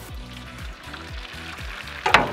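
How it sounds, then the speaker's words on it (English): Butter sizzles on a Blackstone griddle set to low, a steady crackling fry with soft repeated scraping strokes, ending in a sharper louder clatter near the end, with no voices. "I'm going to get a bit of butter down before I add our eggs"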